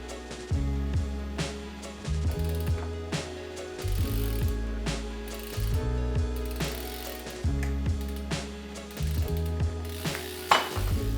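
A wrench loosens a left-hand-threaded bicycle pedal, with repeated close metallic clicks and scrapes as the crank and freewheel turn, coming in short uneven bursts and ending with a sharper clink.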